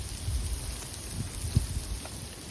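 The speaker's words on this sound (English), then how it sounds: "In fact, this just feels like cold rain." Cold rain or hail falling in Florida makes a soft, steady patter with occasional sharper drops and a faint breezy hiss, heard alone without voices.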